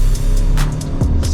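Hyundai Creta N Line with manual gearbox, 2024 model, pulling hard through the gears, a loud continuous engine drone with rising pitch and a brief dip near a shift, heard close from inside.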